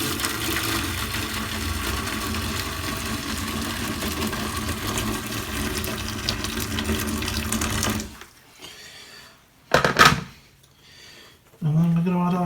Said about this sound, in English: with hot water